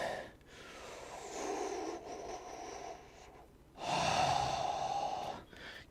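Slow, deep breaths drawn during a yoga session, an audible inhale swelling and fading, then a stronger, breathier exhale or second inhale later on, close and alone without speech.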